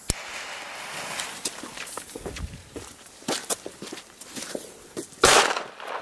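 Sharp cracking pops from an A-Böller firecracker going off, several bursts scattered over the clip with a loud final bang near the end.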